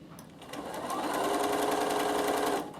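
A sewing machine fitted with a no. 12 piping foot stitches forward and then in reverse on a fabric bag handle, a close, steady whirring run of about two seconds that starts and stops cleanly.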